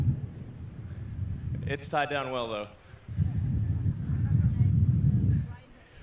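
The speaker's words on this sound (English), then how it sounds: "I actually wasn't expecting it to be this windy" Wind buffets the microphone outdoors, heavy low rumbling gusts on both sides of a short stretch of talk.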